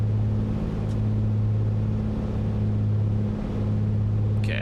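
Steady piston engine drone of an A2A Piper PA-24 Comanche in flight in Microsoft Flight Simulator 2024, a loud constant low hum whose pitch dips slightly as the RPM is pulled back to 2,000, with no talking.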